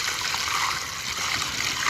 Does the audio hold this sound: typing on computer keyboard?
no